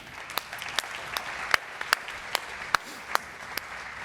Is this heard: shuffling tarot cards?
no